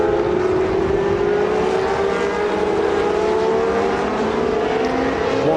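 Historic 1980s Formula One race cars from makes such as March, Tyrrell, Arrows, Ensign and Williams at a Dubai revival meeting, engines droning loudly and continuously with rising whining pitch, no talk.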